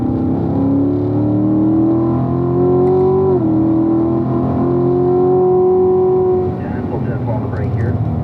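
A race car on a track accelerates hard at full throttle, its loud engine note rising steadily and close, dipping briefly mid-pull before climbing again, then easing off near the end.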